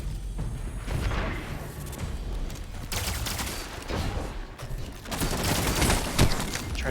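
Sustained gunfire in the sci-fi shooter Destiny 2, steady rapid bursts layered with heavier booms and explosions, loud and continuous throughout with no speech.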